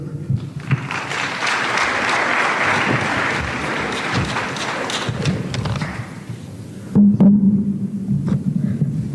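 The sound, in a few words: audience applause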